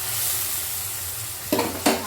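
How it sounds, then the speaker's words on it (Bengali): Ground onion paste fries in a pan for a prawn dish, giving a steady, close sizzle that runs throughout, with two sharp scraping stirs near the end. "এই পেঁয়াজটা কিন্তু ততক্ষণ ভাজা হতে থাকবে"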